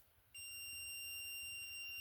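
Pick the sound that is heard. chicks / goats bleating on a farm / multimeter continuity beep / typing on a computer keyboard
multimeter continuity beep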